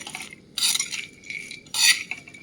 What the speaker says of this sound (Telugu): పంప్కిన్ సీడ్స్, ఇవి మనం కొంచెం సేపు ఫ్రై చేసుకోవాలి.